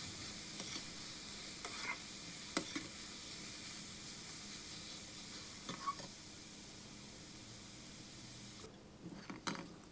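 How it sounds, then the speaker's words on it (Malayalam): Cucumber kichadi being stirred in a pan, a steady soft sizzle of frying with scattered scrapes and clinks of the spoon against the pan, close and fairly quiet with no talk. "ഇനി എല്ലാം കൂടെ ചേർത്ത് നന്നായിട്ട് ഒന്ന് ഇളക്കുക."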